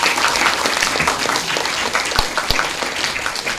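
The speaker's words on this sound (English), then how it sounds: "I feel like she deserved a bigger round of applause than that" An audience at a school debate competition applauds, a steady wash of clapping that stays fairly loud throughout, with a couple of sharper individual claps standing out near the end.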